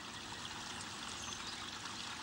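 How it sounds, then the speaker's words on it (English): A newly finished garden water feature trickles steadily, a faint continuous wash of running water with no breaks and no voices, heard from a short distance. "my water feature was finished"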